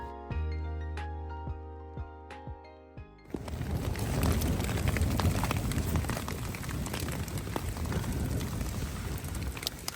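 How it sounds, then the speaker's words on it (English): Rain and hail pour down onto a forest trail in Michigan's Upper Peninsula, a dense, steady hiss and patter that starts suddenly after a few seconds of quieter tonal sound and then continues loudly. "So yeah, it started raining and hailing."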